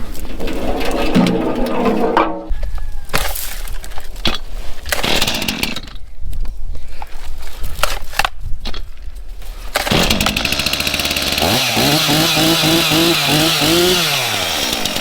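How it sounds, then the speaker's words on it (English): A chainsaw runs loudly nearby outdoors in Alaska while cutting firewood, sputtering through uneven bursts before revving up and down in steady cycles, no voices heard. "Let's get the chainsaw warmed up and get her done."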